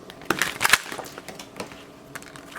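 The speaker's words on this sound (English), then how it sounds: "hopefully they don't bend in my hands as I shuffle." Tarot cards shuffled by hand, a run of crisp papery riffles and clicks, densest early on and thinning to scattered soft taps, close and fairly loud.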